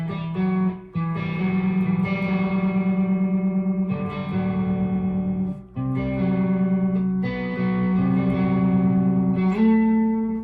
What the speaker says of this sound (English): this one actually has a clean section, so I have my distortion pedal off